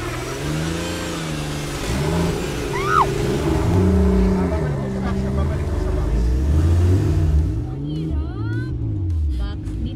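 A car runs an autocross course, its engine rising and falling through repeated revs and gear changes, loud and near, with people talking over it much of the time.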